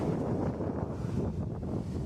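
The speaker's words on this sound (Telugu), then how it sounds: "పెద్ద అలలు వస్తున్నాయి ఇట్లా" Big ocean waves surging near the rock arch at Visakhapatnam, a broad, continuous rumbling wash of surf mixed with heavy wind buffeting on the microphone, loud and close, with no talking.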